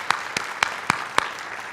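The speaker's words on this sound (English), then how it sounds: "Let's give them another round of applause." A few sharp, evenly spaced claps ring out at a National Honor Society induction ceremony after a string ensemble performs. Five distinct hits fall in a steady rhythm over a soft room background.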